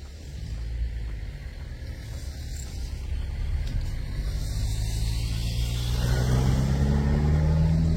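A car passes on a road near the A7 motorway, its engine hum and tyre noise building steadily and growing louder toward the end over a constant traffic rumble.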